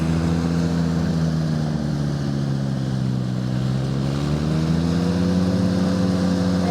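A Ventrac 45RC compact tractor runs at full throttle with the PTO engaged, a loud, steady engine drone with a slight dip and rise in pitch, close by and with no voices over it.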